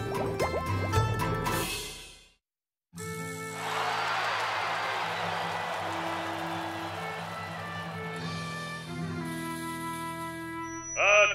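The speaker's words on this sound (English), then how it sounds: "Soup need more bubbles." Soup bubbles in a pot in a cartoon, a steady wet bubbling and gurgling that runs for several seconds after a brief silence, with music before and after.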